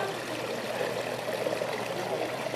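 Roof runoff water trickling into a small garden pond stocked with fish, a soft steady babbling flow, close and continuous with no talk.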